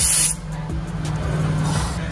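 Portable tyre inflator on a motorcycle tyre, a sharp hiss of escaping air at first, then a low steady motor hum and pumping drone that continue for a couple of seconds.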